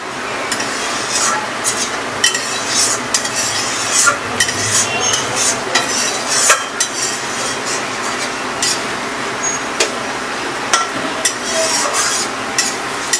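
Prawn malai curry with green chillies is stirred in a pan: a steady, loud sizzle runs throughout under repeated scraping strokes of a spoon, with no talking.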